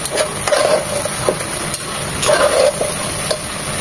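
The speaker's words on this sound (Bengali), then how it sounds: "4 থেকে 5 মিনিটের তেলেই চিকেনগুলো একটু পরপর নেড়ে ভেজে দেব।" Chicken pieces frying in hot oil over high heat, a steady close sizzle broken by repeated scraping stirs of a spatula against the pan.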